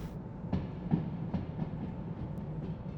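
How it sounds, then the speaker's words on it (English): A train in the Derail Valley game rolls along the rails downhill, with a steady low rumble and a series of rhythmic clicks from the wheels passing over joints, heard close and alone. "I think this is all downhill, so the train's just going to naturally pick up speed."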